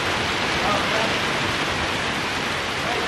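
Steady, dense rain falls throughout, a continuous hiss close by with no breaks.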